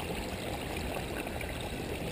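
Water pours steadily over rocks into a hidden gravel-covered basin in a backyard pondless waterfall with twin falls on both sides, a continuous close rushing splash with no voices.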